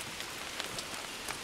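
Steady rain falls on petunias in a window box on a soggy day, a dense close hiss of drops spattering on leaves and petals with no voices.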